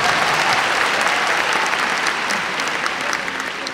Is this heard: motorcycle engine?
no